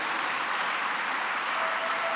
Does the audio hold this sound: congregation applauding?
yes